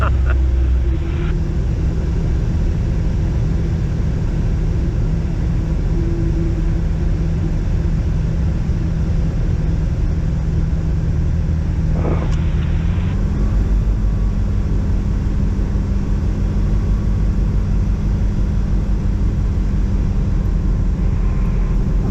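A light aircraft engine drones steadily in the cabin during the approach to land at Husbands Bosworth airfield, a loud, constant low hum with a brief pitch shift partway through and no talk over it.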